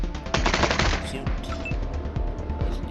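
Rapid bursts of automatic gunfire from the video game Wasteland 3, loud and dense with repeated sharp shots through most of the clip and no talking.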